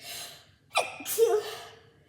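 A quick gasping inhale followed by one forceful sneeze nearby, fading into silence afterward.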